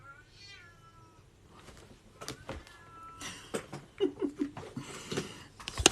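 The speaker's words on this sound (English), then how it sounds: "Can you hear my cat?" A house cat meows several times, first a clear drawn-out meow near the start and then shorter mews among clattering and rustling sounds, all fairly close.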